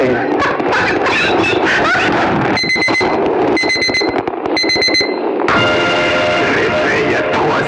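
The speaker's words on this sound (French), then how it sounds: "Réveil à 3h du matin." An alarm clock going off at 3 a.m. with loud repeated electronic beeping in bursts, close and piercing, with speech and other noise around it.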